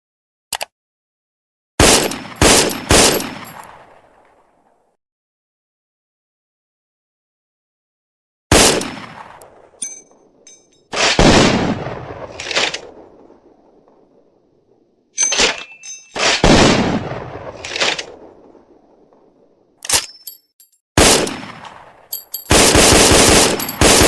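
An FN FAL automatic rifle fires repeated loud, close bursts of rapid shots, each burst trailing into a short echo, separated by brief silent gaps.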